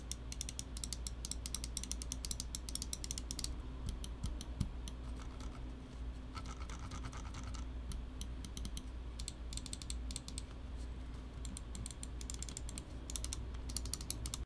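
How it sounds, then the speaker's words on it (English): Soft, rapid clicking of small plastic buttons on an Xtrfy M4 computer mouse, repeated in quick bursts and irregular runs, close up over a steady low hum. "The buttons are all nice and clicky and satisfying"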